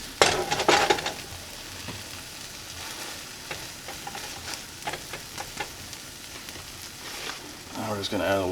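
An omelet sizzling in a pan as a spatula works it loose from the bottom, with steady frying hiss, scraping bursts at the start and end, and scattered light taps, close by with no voices.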